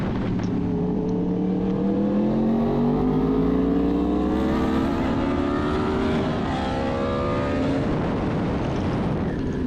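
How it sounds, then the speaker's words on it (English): A sport motorcycle engine, likely near a Yamaha R1 at Buttonwillow racetrack, roars loudly and continuously, pitch climbing through the gears with a rising, rasping howl, close and sustained with no speech. "Even dwarfs the sound of my bike, which is saying something."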